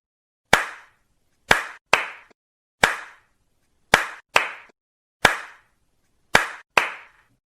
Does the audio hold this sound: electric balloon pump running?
no